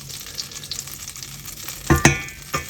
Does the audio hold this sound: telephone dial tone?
no